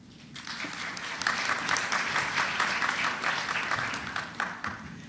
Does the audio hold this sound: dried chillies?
no